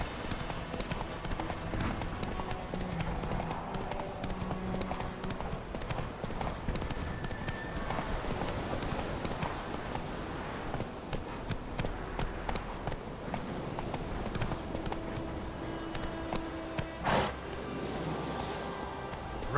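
Roach the horse galloping in The Witcher, a fast steady clip-clop of hooves running on beneath game ambience, fairly quiet, with faint voices in places.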